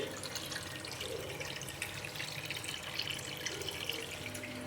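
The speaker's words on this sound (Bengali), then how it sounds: "আর এখানে তো পানি আসতেছে" Water pours steadily into a home aquarium, a soft, even rushing and trickling that continues alone at low level without pause.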